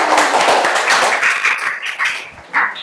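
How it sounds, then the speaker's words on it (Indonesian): A classroom of students in a coding and artificial intelligence teaching session applauds classmates, a loud, dense run of close clapping that thins out toward the end. "Tepuk tangan buat teman kalian."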